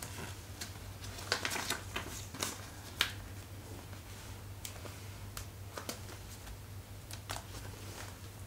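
Paper banknotes, 20 and 10 euro notes, handled and counted for an envelope budget: crisp, irregular rustles and flicks close up, scattered over a steady low hum.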